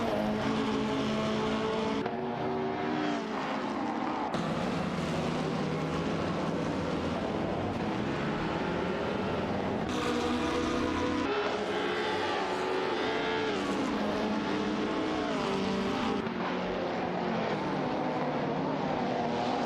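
Race cars roar past on a track in repeated engine surges and whines, each pass rising and falling, loud and sustained with no pause.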